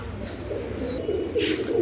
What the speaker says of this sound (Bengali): এক পেয়ার দেখেন ওমান টেডি নিউ অ্যাডার্ট কবুতর